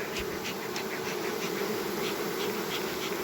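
A honey bee swarm buzzes steadily and densely while being settled into a hive after a smoker coaxed it lower, with a continuous close drone and no voices.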